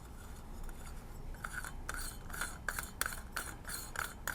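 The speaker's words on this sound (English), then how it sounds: "This will just simply screw into the front of the lens." Chrosziel sunshade being screwed onto the front of a camera lens, a series of small close scraping and ticking thread clicks in an irregular rhythm over a quiet room background.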